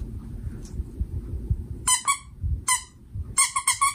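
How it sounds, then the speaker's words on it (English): A small squeaky toy duck squeaks in three quick bursts, two short squeaks, then a single one, then a rapid run, over low handling rumble, with no voices. "he picked him out a little duck. I wonder, it does squeak"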